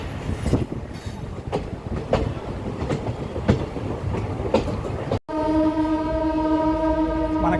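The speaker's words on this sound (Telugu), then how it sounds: "భీమవరం జంక్షన్ నుంచి అయితే మన ట్రైన్ స్టార్ట్ అయిపోయింది." The Narasapur–Hubli Amaravathi Express pulls out of Bhimavaram Junction with loud, rhythmic wheel clatter on the rails. Partway through it gives way to a long, steady, sustained horn blast.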